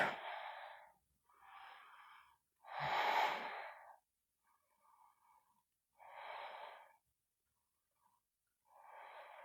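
Deep, slow breaths during a yoga class, several long airy inhales and exhales separated by short pauses, close and soft with no talking.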